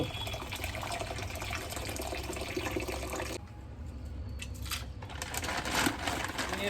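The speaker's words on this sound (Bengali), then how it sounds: "প্রথমে আমরা গরম জলটা ঢেলে নেবো কড়াতে" Hot water is poured into a wok (kadai) for cooking pasta: a steady, close rushing pour for about three seconds, then quieter splashing and trickling.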